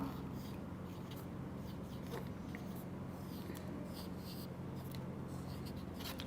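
Chalk or pen writing a short sentence on a classroom board during a first-grade Urdu lesson, a steady soft scratching and rubbing that runs continuously at close range over a low background hum, with no talking.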